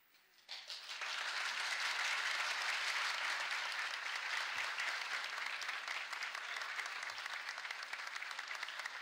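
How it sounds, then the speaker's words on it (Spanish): The people of Buenos Aires applaud King Juan Carlos I of Spain at the Cabildo, sustained dense clapping that swells in after a quiet start and continues steadily, heard from a distance. "estos aplausos del pueblo porteño"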